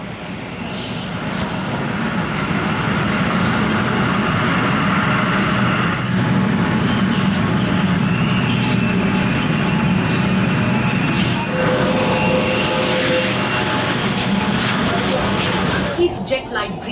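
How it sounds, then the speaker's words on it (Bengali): A Kolkata Metro train pulls into an underground station on the Howrah to Sealdah line, producing a loud, continuous, building rumble and roar, with voices and station sounds mixed in over it. "তো এবার ট্রেন চলে আসছে বন্ধুরা"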